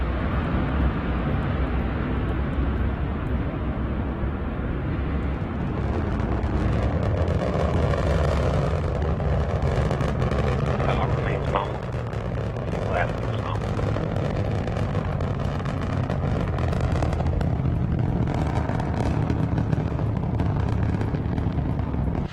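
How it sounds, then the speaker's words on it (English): Antares rocket lifting off on Northrop Grumman's commercial resupply mission 19 to the International Space Station, a steady, dense broadband roar filling the whole clip with crackling texture throughout. "Antares taking Northrop Grumman's commercial resupply mission 19 into orbit"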